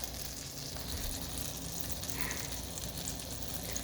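Butter melting and sizzling in a hot pan with the heat off, a steady soft frying crackle throughout, close and even, with no talking.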